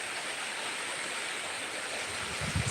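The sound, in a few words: heavy rain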